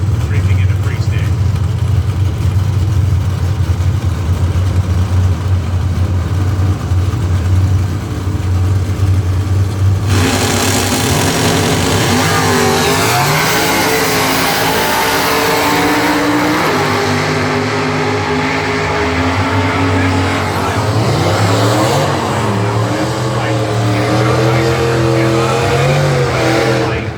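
Drag race cars, including an '87 Firebird and a short-wheelbase Cobalt, rumble and rev through staging at Lucas Oil Motor Speedway in Indianapolis, then launch with a sudden loud roar. Engines keep blaring without a break, and an announcer talks over them.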